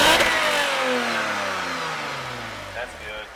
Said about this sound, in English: He's got the exhaust installed.